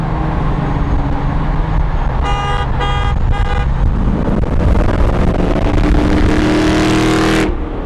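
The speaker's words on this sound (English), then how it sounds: "Three honks!" A Chrysler 300 SRT8 sounds its horn three times in quick succession, loud and close over an idling, rumbling engine that then revs up strongly.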